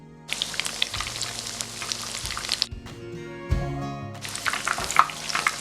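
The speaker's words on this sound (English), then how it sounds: "Shallow fry the chutney kebabs on low to medium flame" Chutney chicken kebabs shallow fry in a pan of oil over a low to medium flame, sending up a steady close sizzle and crackle with a brief dip in the middle before the bright spitting returns.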